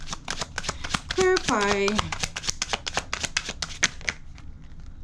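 Tarot cards riffle and shuffle in a rapid flurry of crisp, snapping flicks, close and loud, while someone speaks over them.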